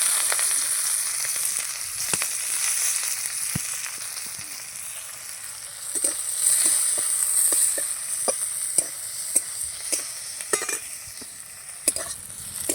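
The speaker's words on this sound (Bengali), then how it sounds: "পেঁয়াজ লাল লাল করে এরকম করে আমি ভেজে নিয়েছি" Chopped onion fries in oil left over from frying river fish, crackling with a steady bright sizzle broken by frequent sharp stirring scrapes and clicks, close and fairly loud, with no talking.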